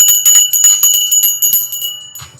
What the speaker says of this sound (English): I'm ringing the bell on that.